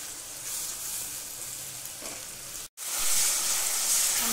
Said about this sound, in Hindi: नमक डालने के बाद हम 2 से 3 मिनट तक अच्छे से टमाटर को भूनेंगे